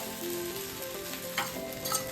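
Leftover idli frying on a hot griddle with ghee gives a soft, steady sizzle over about two seconds, with a couple of brief scraping stirs and no voices.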